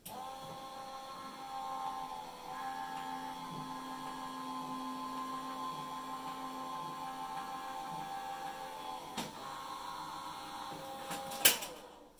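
A hot foiling machine runs steadily for about twelve seconds, giving a continuous mechanical hum with tonal whine, fairly quiet and alone, ending with a brief clatter near the end.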